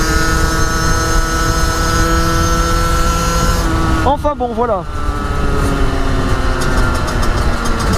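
A 2019 Beta Track 50 motorcycle engine drones steadily and loudly with a buzzing, layered tone while someone speaks over it, and the pitch briefly wavers partway through.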